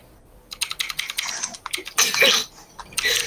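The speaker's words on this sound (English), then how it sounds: "Try hugging your keyboard, not breaking it, Dabcat." Rapid, uneven clatter of keys on a computer keyboard during a Fortnite gaming session, with bursts of close, loud typing and short pauses between.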